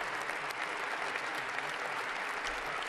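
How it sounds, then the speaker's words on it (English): Sustained audience applause during a Trump speech, a dense, steady wash of many hands clapping at even loudness throughout with no pauses. "That Joe Biden actually claps, for fuck's sake"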